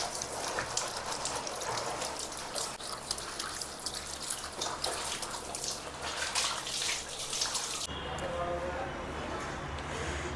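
Hot boiled water splashing and running while something is washed by hand, a continuous close spattering wash that changes character near the end, with a voice speaking over it.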